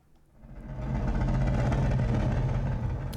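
Sci-fi Republic gunship engine from Star Wars: The Clone Wars, hovering over a fortress: a low, droning hum builds from quiet to a sustained roar, with a steady pitched rumble and grainy upper texture, and no talk.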